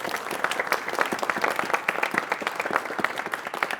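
Audience at a high school varsity quiz championship applauds the runner-up team, a dense run of fairly close clapping with distinct individual claps, steady for a few seconds.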